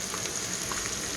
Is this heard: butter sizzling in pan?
yes